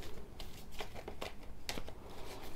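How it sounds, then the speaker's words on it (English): A deck of tarot cards is shuffled close up, making quiet, irregular papery riffles and slaps in short bursts against a faint background. "These are taking a long time to shuffle."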